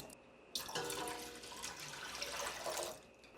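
Soy sauce is poured from a container into a batch of peppers being pickled, a steady close liquid gush that starts abruptly and runs for about two and a half seconds before tapering off.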